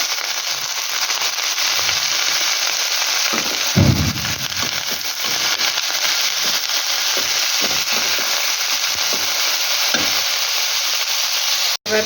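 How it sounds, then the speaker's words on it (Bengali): Cauliflower frying in a wok for a mixed vegetable dish, a steady close sizzle running throughout with occasional louder stirring scrapes and pops, no talking. "কপিগুলো ভাজা হয়ে গেছে।"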